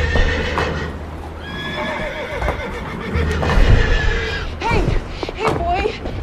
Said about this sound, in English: To check on my horses.